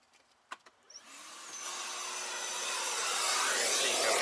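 A Makita cordless vacuum with two batteries starts up with a few clicks, then runs as a steady, loud, broadband whirring rush over a car floor mat that holds gravel and wood chips.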